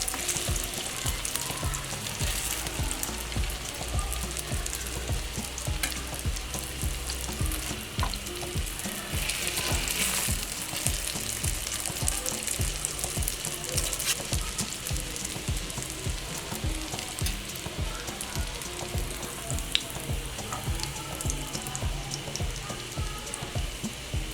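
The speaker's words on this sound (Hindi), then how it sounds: "मीडियम फ्लेम पर इसको हम फ्राई करेंगे, ज़्यादा तेज़ आंच नहीं रखेंगे।" Bread rolls fry in a pan over a medium flame, a steady, dense crackle of oil like light rain that runs on without a break, close and fairly soft, with no voices.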